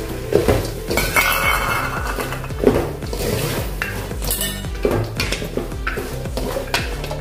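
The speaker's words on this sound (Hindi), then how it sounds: "अभी हमने थोड़ा देर इसको भून लिया है नारियल को" Dried coconut being dry-roasted and stirred in a metal pan, with a spoon scraping and clinking against the pan in a steady rhythm, close by and loud, with a faint sizzle underneath.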